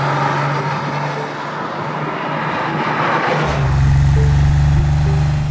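A 1978-era Porsche 911 SC with its air-cooled flat-six idles close by, a smooth steady drone that swells louder and deeper partway through as the engine is revved slightly.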